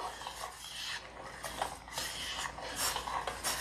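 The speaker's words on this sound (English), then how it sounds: "we are just going to stir it and let it come to a boil" A spoon scrapes and swirls around a pot of kadha holding tulsi leaves as it heats toward a boil, with repeated close, raspy strokes in an uneven rhythm and no voices.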